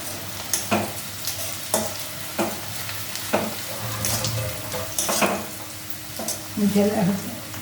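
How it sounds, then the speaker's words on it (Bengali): Fish sizzles in a hot pan under a steady crackle, broken by repeated scraping knocks of a utensil stirring. "ভাজা হয়ে আসছে"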